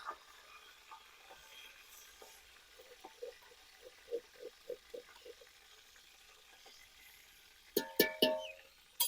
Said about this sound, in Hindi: थोड़ा पानी शामिल करेंगे।